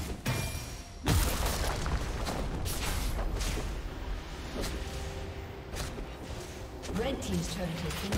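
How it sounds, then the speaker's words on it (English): A turret being destroyed in League of Legends sets off a sharp boom followed by crumbling, crackling debris amid ongoing game sounds, with an announcer voice speaking over the action. "Red team's turret has been destroyed."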